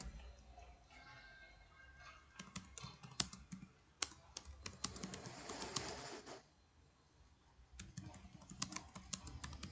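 Keys clatter on a computer keyboard while a Windows Server virtual machine is set up in VMware Workstation, with irregular bursts of clicks, a denser flurry mid-way, and a faint bird cooing in the background.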